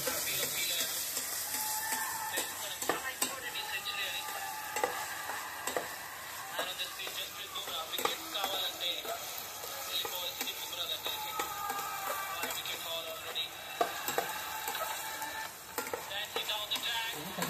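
Onions deep fry in a pan while chicken is being cooked, giving a steady, hissing sizzle with scattered crackles and stirring clicks. Faint voices sit underneath throughout.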